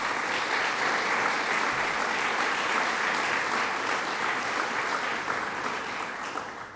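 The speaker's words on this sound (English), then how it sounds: "let's give them a round of applause" Sustained applause from a crowd at a medical marijuana bill signing by New York's governor, a dense steady clapping that holds loud throughout and eases slightly toward the end.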